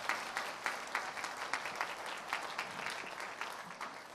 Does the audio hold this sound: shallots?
no